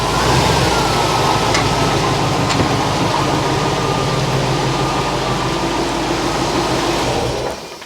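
A Corvette C4 ZR-1 engine runs as a loud, steady, rough drone, close by, then cuts out as it stalls at the end. Nobody speaks.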